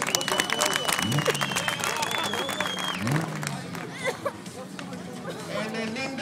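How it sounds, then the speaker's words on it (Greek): Outdoor crowd at a drift event in Ierapetra clapping for a drift car driver, with a steady patter of applause mixed with loud chatter and an engine whine rising and falling nearby. "Πάμε λοιπόν να χειροκρότημα δυνατό για το Μαρινάκι."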